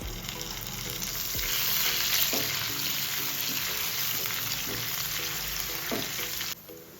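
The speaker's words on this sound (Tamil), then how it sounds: "இஞ்சி பூண்டு சேர்த்த உடனே ஒரு அஞ்சு வரமிளகா சேர்த்துக்கிறேன் இதில் ஒரு கொத்து கருவேப்பிலை போடுறேன்" Red chillies and curry leaves sizzle and fry in oil in a pan with ginger and garlic, a steady close crackle with repeated scraping and stirring strokes throughout.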